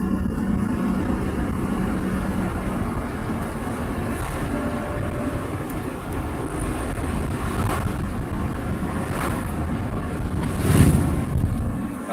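Truck driving along a road near Liberec: a steady, loud low rumble with broadband road and wind noise running throughout, a brief louder swell near the end.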